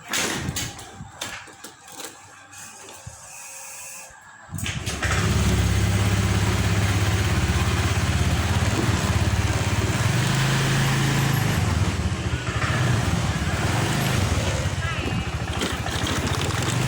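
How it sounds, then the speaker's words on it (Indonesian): A repaired motorcycle that previously sputtered and could not run starts up after a quiet moment, then runs steadily with a loud, rough drone as it is ridden slowly along. "ini motor sudah selesai. Ini akan coba kita bawa jalan."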